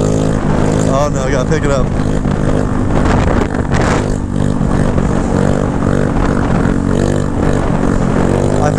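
A 150cc GY6 stunt scooter engine is held on the throttle through a long wheelie, a loud, steady buzzing drone with slight pitch wavers. A rider's voice talks over it.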